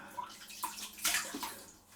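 Water splashes close up as skin is wetted before a traditional straight razor wet shave, a few quick soft splashes and drips in a quiet room.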